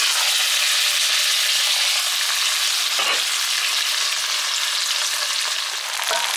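Diced potatoes sizzle and fry steadily in a hot pot for a one-pot meal, a loud, continuous crackle with a couple of brief stirring scrapes and no talking.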